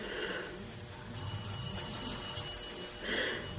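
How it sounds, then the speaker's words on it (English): A telephone rings in a room during a card-making session, faint repeated electronic trills over low background noise, with no talking. "whoops, the phone's ringing"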